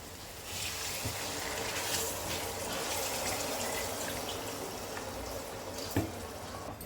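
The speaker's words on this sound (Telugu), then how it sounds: "కొద్దిగా వాటర్ పోసుకుంటారు" Water poured into a pan while cooking a traditional Andhra-style fish curry, a steady continuous splashing rush that lasts throughout, close and fairly even in level.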